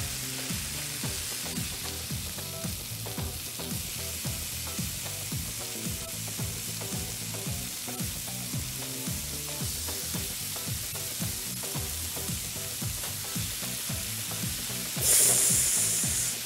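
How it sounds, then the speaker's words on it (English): Food dropped into hot frying oil, sizzling and bubbling loudly and steadily up close, with rhythmic clattering scrapes throughout and a sharper hiss burst near the end, no talking. "Listen to that sizzle."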